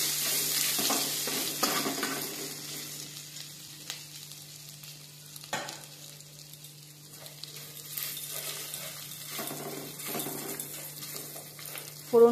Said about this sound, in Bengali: আর দিয়ে দেবো একটু আদা থেতো করে নেওয়া। এবার এটাকে একটু 5-10 সেকেন্ড ভাজা করে নেব।